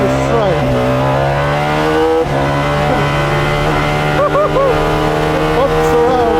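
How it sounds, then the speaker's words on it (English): McLaren Solus GT single-seat hypercar with a Judd V10 engine, loud and close, the high-pitched wail rising and falling through rapid gear changes while a voice speaks over it. "I've wanted to drive a Judd V10 engine car for so long."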